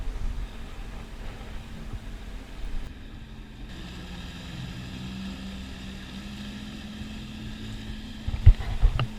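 A motorboat runs under a causeway toward a boat ramp, a steady low engine drone with wind and water noise, moderately loud and constant, with no voices.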